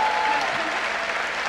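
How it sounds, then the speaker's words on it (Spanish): A concert audience applauds the band in a big arena, a dense, steady wash of clapping heard close and loud throughout, with no break. "fuerte aplauso a la banda para que no se equivoque"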